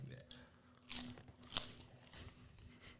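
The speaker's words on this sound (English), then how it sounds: "I can hear you chew." Crunchy food being chewed close to the microphone, a few sharp crunches around the middle of a short stretch, with talk in the background.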